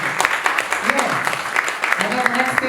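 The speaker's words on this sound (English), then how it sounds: "Can we give ourselves a round of applause?" An audience claps for itself at a business talk, a dense round of applause with sharper individual claps standing out and a few voices and cheers mixed in.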